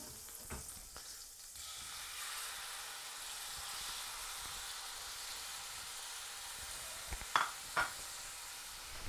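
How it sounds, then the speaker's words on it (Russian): Chicken frying in a pan, a steady broadband sizzle running the whole time at moderate level, with a few brief clatters of utensils near the end. "Нужно уже подавать нашу курицу в сковороду."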